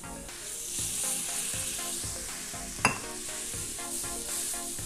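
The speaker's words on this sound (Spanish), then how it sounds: "Mezclamos así bien, que no queden grumos." Chicken lasagna sauce with warm milk being stirred in a pan: a steady soft sizzle with rhythmic scraping strokes of a utensil against the pan, and one sharper clink partway through.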